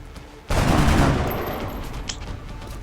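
XCOM: Enemy Unknown squad gunfire on a terror mission: a sudden loud burst of automatic fire that rings out and decays over a couple of seconds, with a sharp smaller crack near the end.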